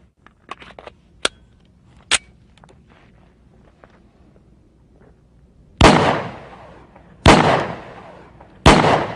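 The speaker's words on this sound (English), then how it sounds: "Glock 10mm semi-automatic pistol." A Glock 10mm semi-automatic pistol fired three times at spaced intervals, each shot loud and sharp with a ringing decay, after scattered quieter clicks and handling sounds.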